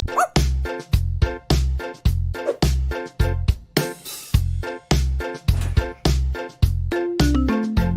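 A dog barks again and again in a steady, even rhythm, each bark loud and close, set within a children's alphabet song.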